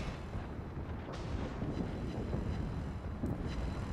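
Secondary guns on the battleship Bismarck fire in a World of Warships naval battle, heard as a dense, rumbling barrage of booms under wind-like roar, fairly loud and continuous with no talking.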